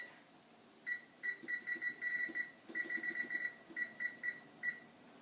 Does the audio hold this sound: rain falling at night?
no